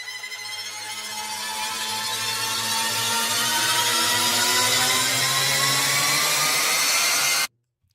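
A riser sound effect from a sample library sweeps steadily upward in pitch and loudness, building a dense rising roar for about seven seconds before cutting off abruptly into silence.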